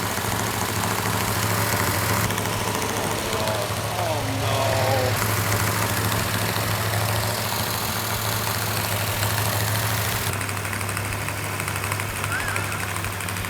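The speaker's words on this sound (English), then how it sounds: "we have the engine running exactly the way it's supposed to. No leaks, no rattles, no knocks" A newly built engine in a 1969 Charger Daytona runs steadily after startup, a loud close idle with a constant low hum, while people talk briefly near the car.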